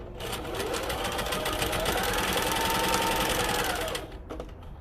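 A sewing machine runs a top stitch around the edge of a fabric makeup wipe, a steady fast whirring hum that speeds up, holds for about four seconds, then stops.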